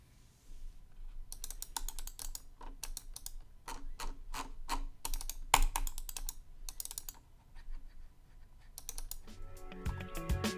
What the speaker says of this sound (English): what the MX Master sounds like when all of its buttons are being clicked